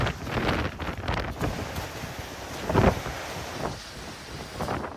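Super typhoon winds roar in strong, uneven gusts that buffet the microphone, surging and easing over several seconds with no voices.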